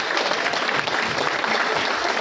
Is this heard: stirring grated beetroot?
no